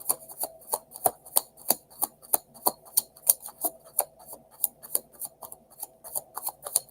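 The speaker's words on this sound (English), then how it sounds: "Now I'm satisfied with the shuffle." Tarot cards are shuffled by hand in a fast, even run of crisp snaps and riffles, close and clear with no talking over them.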